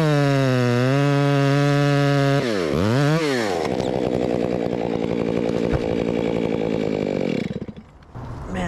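A chainsaw with a 36-inch bar cuts through a thick tree in winter weather. The engine holds a loud, steady roar, drops and revs back up, then bogs down under load while biting into the wood, and eases off near the end.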